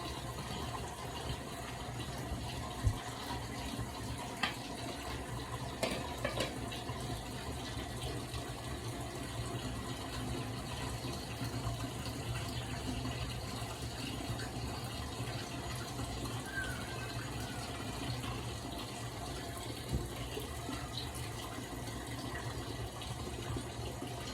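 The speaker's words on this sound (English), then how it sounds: "I'm gonna take this to the sink and I'm gonna pour the oil off" Cooking oil from cooked meat is poured into a kitchen sink with a steady, continuous liquid rush and splatter that stays even throughout.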